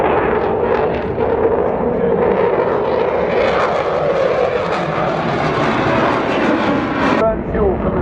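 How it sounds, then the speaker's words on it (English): A military jet thunders low and loud at the Eastbourne Airborne 2025 air display, holding a sustained negative G turn before snapping back, its roaring engine continuous under a commentator's amplified voice. "Snapping the aircraft back into positive G now."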